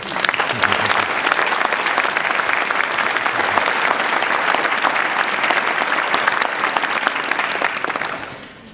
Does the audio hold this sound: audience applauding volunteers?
yes